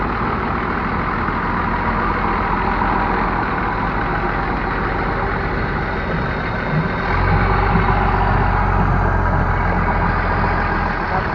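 A truck engine idles in a steady, loud, broadband rumble for about eleven seconds on the way to an event, growing deeper and heavier partway through. No one speaks.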